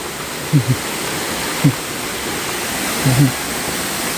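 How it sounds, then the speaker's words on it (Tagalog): Waterfall at Camp Payapa pours in a steady, full rushing hiss of falling water that runs unbroken throughout, with a few brief voices cutting in near the start and end. "Yung waterfalls guys."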